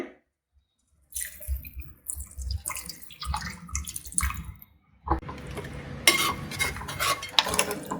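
Water pours into a pot of mutton chana dal curry, then a spoon stirs and scrapes through the contents in a steady rhythm, with clinks against the metal rim.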